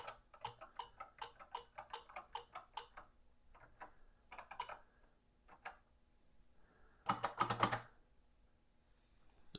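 Keys clack on an Atari 800 mechanical keyboard in sharp, quiet taps, first in a quick irregular run, then scattered single presses, with a short dense burst of clattering near the end.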